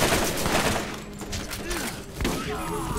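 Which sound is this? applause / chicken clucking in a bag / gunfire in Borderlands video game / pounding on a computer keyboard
gunfire in Borderlands video game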